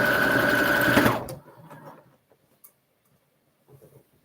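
A sewing machine runs steadily and loudly for about a second, then stops; afterward only faint handling clicks and a brief murmur of quiet talk remain in a calm room.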